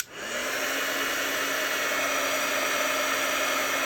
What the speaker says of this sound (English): it's going to get a little noisy for a minute because I have to put the heat embosser on